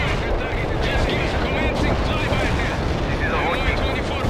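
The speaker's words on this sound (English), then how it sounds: "Comrade Maloshenko, I have incoming artillery fire on all my positions!" Heavy artillery fire in the strategy game World in Conflict: a dense, continuous roar of blasts and rumbling battlefield noise that stays loud and steady throughout, with no clear gaps.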